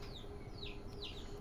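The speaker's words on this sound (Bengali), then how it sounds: "মুরগির বাচ্চা একটা বাবু ইয়ামিমের জন্য" A baby chick gives three faint, thin, high peeps in quick succession against quiet low background noise.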